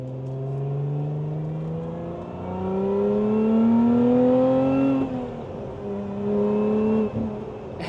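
Supercharger whine from a Lotus Emira accelerating, a loud rising tonal scream stacked over the engine note that climbs steadily through the gears with brief dips at the shifts, with no one talking.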